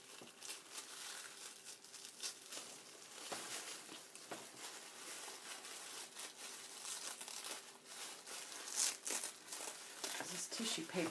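Patterned tissue paper rustles and crinkles close by in soft, irregular bursts as a wrapped craft-shop purchase is unwrapped, with a few light tearing sounds.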